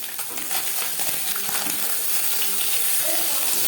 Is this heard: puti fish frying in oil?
yes